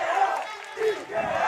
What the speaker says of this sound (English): The crowd is just going nuts here.